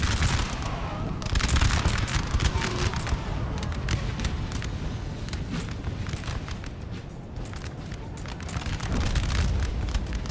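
Massed musket volleys from infantry in Napoleon: Total War, a battle between French and Austrian forces around a building, sounding as dense crackling fusillades with heavy rumbling booms, continuous and loud throughout.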